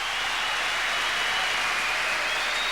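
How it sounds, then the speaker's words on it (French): A packed indoor arena crowd applauds after the close of the 1994 Paris Bercy quarterfinal tennis match between Agassi and Sampras, a dense, even wash of clapping sustained from start to end. "là il va récolter les bravos, les hurrahs de la foule"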